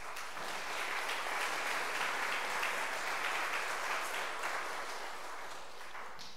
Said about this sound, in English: So we welcome them by giving them a round of applause.